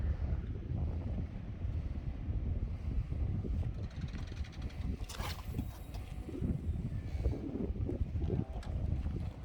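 Strong winter wind buffets the microphone at Geojin harbor in Goseong, Gangwon, a steady roaring rumble with gusty swells and some water wash underneath, no talking.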